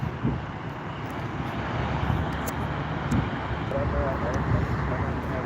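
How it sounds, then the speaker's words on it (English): An American Airlines Airbus A319 at Orange County's SNA airport gives a steady jet engine rumble with wind noise at the microphone, while a voice speaks over it. "Here's our American Airbus 319."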